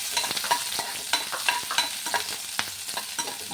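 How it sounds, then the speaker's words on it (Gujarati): Onions sautéing in hot oil as the first step of a spiny gourd curry: a constant close sizzle broken by repeated scraping stirs of the spoon across the pan, with no talking. "હવે આપણે જે ડુંગળી લીધી છે ને, ડુંગળીને પહેલાં આપણે સાતળવાની છે"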